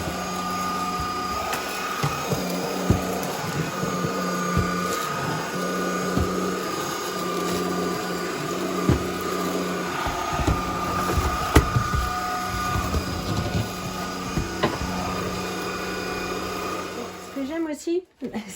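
A stick vacuum cleaner with a detachable motor and tube, picking up pet hair, hums steadily at moderate volume under a person talking, then cuts off abruptly near the end.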